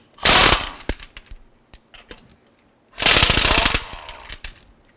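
An impact wrench removes the wheel lug nuts on a Honda Civic: two loud, sustained rattling bursts separated by a pause filled with scattered metallic clinks and taps of nuts and tools.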